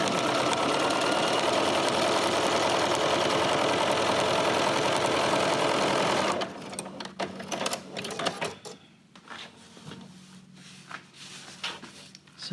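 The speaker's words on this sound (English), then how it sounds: "And now I'll just sew" Sewing machine stitching a quilt-as-you-go quilt, a steady loud mechanical whir for about six seconds, then stopping and giving way to quiet handling and fabric rustles.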